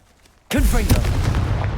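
Confringo blasting curse going off in Hogwarts Legacy: a sudden loud burst after a brief hush, followed by sustained crackling, rumbling spell-combat noise with a voice-like shout mixed in.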